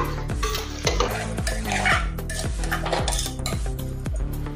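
Tomato ketchup being stirred into pav bhaji in a pan: steady rhythmic scraping of a spoon around the pan, with repeated metallic knocks about every half second and a soft sizzle underneath, close and without speech.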